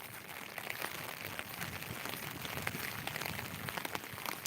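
Steady rain falling in a village, a dense even hiss of drops on surfaces with fine scattered patter, moderately loud and continuous.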